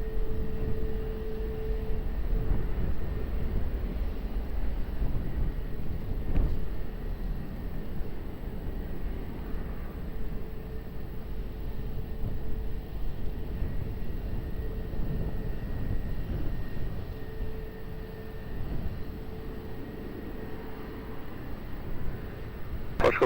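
A plane landing on runway 20 at Lisbon Airport, heard as a steady, distant broadband rumble with a faint hum that holds for the whole stretch.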